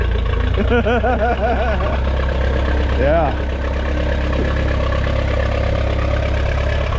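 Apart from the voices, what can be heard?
Minneapolis Moline Jetstar 3 tractor engine running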